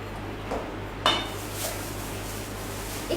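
A small non-stick aluminum wok with a Bakelite handle clinks and knocks as it is handled, giving a few sharp metallic taps against a steady background hiss.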